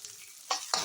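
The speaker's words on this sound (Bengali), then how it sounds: "আমার এখানে পেঁয়াজটা দেখুন ভাজা ভাজা হয়ে গেছে" Onion frying in a pan for a Bengali rui posto fish curry, cooked until reddish, with two short bursts of sizzling and scraping as it is stirred, close and clear.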